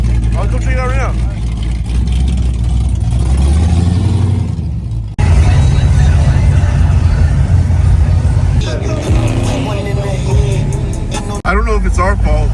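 A 1972 Chevrolet Nova V8 idling loud and close with a deep steady rumble that swells when revved, while people talk over it.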